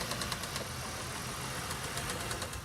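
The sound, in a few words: loud engine noise from a 2017 Honda Pilot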